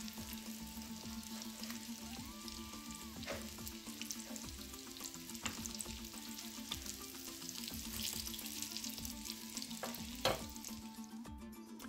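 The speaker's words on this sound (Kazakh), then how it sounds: "Екі жағын әдемі қылып қызарғанша қуырып алатын боламыз." Meatless tripe cutlets frying in a pan until browned on both sides: a soft, continuous sizzle with occasional light utensil taps and a faint steady hum in the background.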